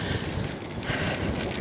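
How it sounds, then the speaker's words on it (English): Wind buffets a microphone while cycling on a descent, a continuous loud rumbling roar with fluttering gusts filling the whole moment and no voices. "Oh, that wind."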